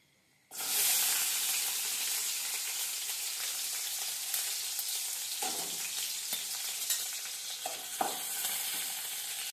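Green chillies hit a hot pan and burst into a loud, sudden sizzle that settles into steady frying hiss with occasional stirring clinks, close by with no talk.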